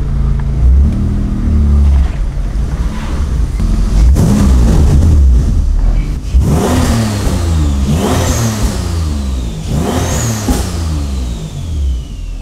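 A boosted Acura TL engine revs hard while driving, with loud rising and falling sweeps of engine note repeating several times and a whistle-like boost tone climbing over the revs.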